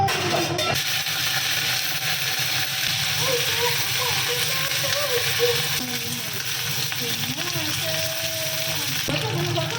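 Frying sizzle from hot oil in a pan, a steady broad hiss filling the whole stretch at moderate loudness, with people talking over it.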